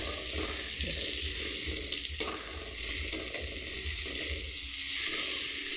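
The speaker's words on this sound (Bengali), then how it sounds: "এবার উল্টে পাল্টে ভালো করে ভেজে নিই, বেশ লাল লাল করে ভাজলে দেখেছেন গায়ের কালারটা কত সুন্দর এসেছে" Slices of pointed gourd (potol) sizzle in hot oil as they are turned over, a dense continuous frying hiss with soft spatula knocks, close and steady, nobody speaking.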